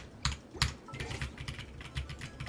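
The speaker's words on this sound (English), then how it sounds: "the keyboard is okay" Fast, faint clicking of keys on a computer keyboard, irregular taps with a few sharper strikes, heard alone at a quiet level.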